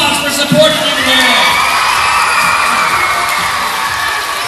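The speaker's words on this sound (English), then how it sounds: "give your parents and your coaches and everyone that came to see you a big, huge round of applause" A large crowd at a cheerleading awards event cheers and whoops loudly, with shouting voices blending into a sustained roar of excitement.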